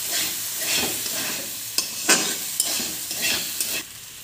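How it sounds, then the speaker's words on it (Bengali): Snails and potatoes stir-fry with salt in a pan, a loud close sizzle broken by repeated scraping strokes of a spatula at an uneven rhythm. "নুন দিয়ে আর একটুখানি কষে নেবো"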